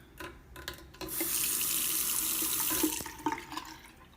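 Tap water runs steadily into a bathroom sink in an apartment, a broad continuous rush lasting a few seconds before easing into lighter splashes and trickles, close by with no talking.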